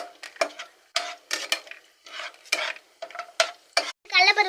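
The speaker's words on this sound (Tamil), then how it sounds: "பூண்டை போட்டு நல்லா கிண்டணும்" A spoon stirs garlic frying in a pan, close up, with short irregular scraping strokes separated by brief pauses and a sizzling burst at the end.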